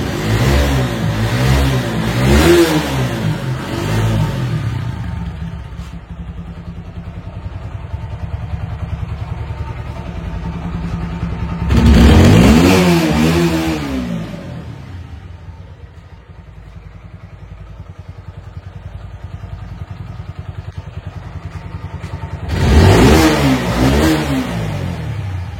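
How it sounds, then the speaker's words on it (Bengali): Motorcycle engine from a TVS Apache RTR 160 or Bajaj Pulsar RS200, a little-ridden bike with 13,000 original kilometres, idling unevenly with three loud throttle blips that rise and fall, close up with no talk. "গাড়িটা এবার স্টার্ট করব।"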